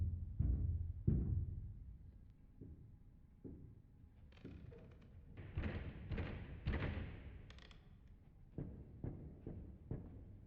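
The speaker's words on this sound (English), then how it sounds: "the banging on the doors, trying to open a locked door off its hinges is essentially not a loop." Heavy thuds and bangs on a locked door in the Texas Chain Saw Massacre video game museum mode, a few loud low knocks followed by scraping and a run of repeated blows, with no talking.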